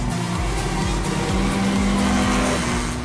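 Cars race around a motorsport track, engines droning loudly with pitch sweeps as they pass, tires squealing over a constant roar.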